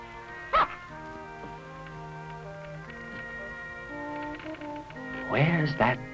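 Dog barking in the distance on board a boat in 1965 footage, a couple of short yaps under a steady musical score and a voice.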